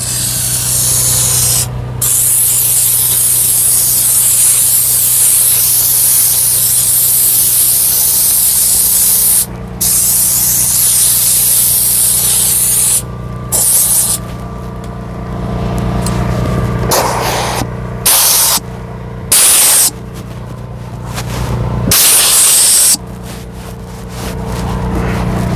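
An air gun blasts a loud, harsh hiss while a car interior is blown out during detailing, in repeated long bursts broken by short sudden cutoffs, with a low hum running beneath.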